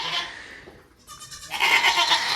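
A goat in a barn gives a loud, close bleat, then after a short quiet gap a second long, wavering bleat follows.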